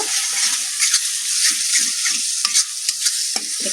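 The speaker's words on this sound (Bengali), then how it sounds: "এখন আমি সমস্ত গুঁড়ো মশলার সাথে পেঁয়াজ রসুনটা ভালো মতো করে কষে নেব।" Onion and garlic frying with ground spices in a pan for a Bengali soya curry, a bright close sizzle broken by repeated spoon stirs and scrapes, no voices.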